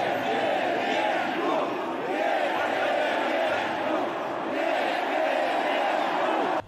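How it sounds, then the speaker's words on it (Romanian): Large crowd at a rally for Putin's speech roaring and chanting in unison, a loud sustained wall of voices that swells and holds throughout. "Discursul lui Putin a fost aplaudat de fiecare dată de mulțimea de oameni."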